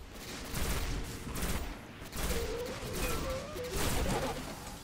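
Bursts of rapid gunfire in a Destiny firefight on Venus, several volleys separated by short pauses, fairly distant and moderately quiet, with no talking.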